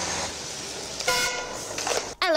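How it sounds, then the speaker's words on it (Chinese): A single car horn honk sounds from an ambulance pushing through a residential area of Kyiv, Ukraine, a short, loud toot standing out over street and traffic noise. "按了一声喇叭，示意借过，"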